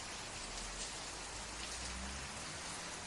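Steady rain falls, a dense, even hiss of drops on surfaces with a low rumble underneath, continuous and unbroken throughout.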